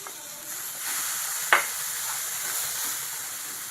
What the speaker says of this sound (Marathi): आता यात मी हे अननसाचे तुकडे घालते